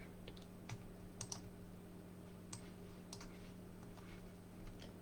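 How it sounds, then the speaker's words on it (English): Sparse computer clicks and keystrokes come in quick small bursts, close but quiet, over a faint steady electrical hum. "I'm just going to keep clicking."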